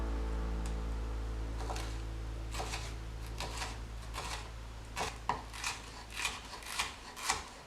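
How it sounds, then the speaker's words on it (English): A knife rasps and taps as vegetables are sliced on a cutting board, the strokes growing into a clear rhythmic run of cuts over a low steady hum. "So we're going to slice and we're going to have even slices."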